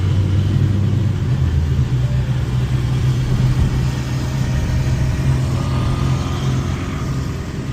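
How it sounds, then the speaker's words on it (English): Car engines labouring up a steep street in Medellin, Colombia, a continuous low rumble of several motors straining uphill nearby, steady throughout with slight fading toward the end and no talking. "You can hear all the engines and stuff trying to power up the mountain."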